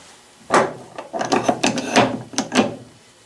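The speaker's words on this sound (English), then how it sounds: "we can quickly move the vice jaw into any position like that, and a half turn, you got it tightened" A Heinrich drill press vise with a half nut as its jaw slides into position and is tightened with a half turn, giving a run of close, loud metallic clunks and ratcheting scrapes.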